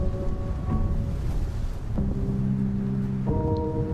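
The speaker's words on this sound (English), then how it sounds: "this wind is frickin' strong." Strong wind in the video game Planet of Lana roars as a steady, dense rush, with low tonal music notes changing underneath throughout.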